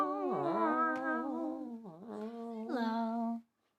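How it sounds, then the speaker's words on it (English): A cat in a home yowls in long, drawn-out, wavering cries that rise and fall in pitch, with a short break before a final cry, loud and close. "Oh, you don't want to hear the cat singing?"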